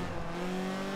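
Engine of a BAC Mono track car in the Forza Horizon 4 racing game, a sustained steady engine drone heard from inside the car at high speed, a continuous tone with no talk.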